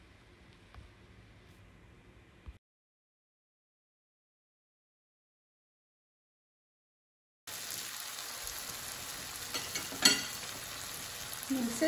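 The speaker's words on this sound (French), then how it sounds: "je vais tout faire revenir dans ma sauteuse tranquillement pour que les tomates cerises compotent" Cherry tomatoes and thyme sautéing in a sauté pan, a soft sizzle at first, then a few seconds of near silence before a louder, crackling fry returns with occasional pops and stirring.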